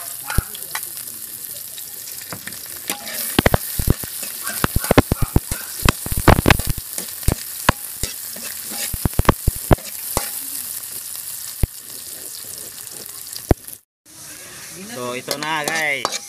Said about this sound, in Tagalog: Magisa na naman tayo ng ating luya. Sabay natin bawang, sibuyas,